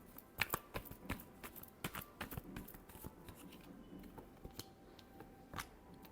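Tarot cards shuffled by hand, giving quiet papery riffles and irregular soft snaps close by, with no voices.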